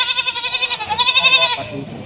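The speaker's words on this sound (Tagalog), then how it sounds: "nilalabas sila boss sa mga kambing na pambenta ulit" A goat bleats loudly and close by in one long wavering cry lasting about a second and a half, then fades.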